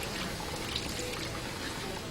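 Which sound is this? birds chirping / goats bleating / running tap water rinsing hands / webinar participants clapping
running tap water rinsing hands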